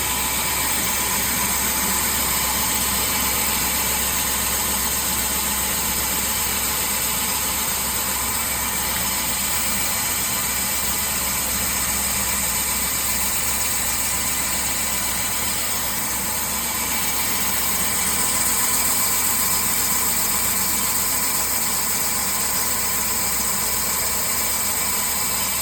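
An OS 100 belt sanding machine running at high belt speed with a slow feed rate and 320-grit belt, giving a loud, continuous, even motor whine and rushing hum that holds steady throughout.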